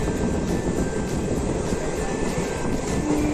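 Steady, loud rumble and roar of a train moving near Secunderabad railway station, continuous with no breaks and no voices.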